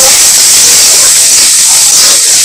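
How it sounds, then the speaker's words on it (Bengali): Black cumin seeds sizzling in hot oil while being stirred for a jute leaf dish, a loud, close, continuous hiss that stays steady throughout. "একটুখানি কালো জিরে দিয়ে দেব, একটু নেড়ে চেড়ে নেব"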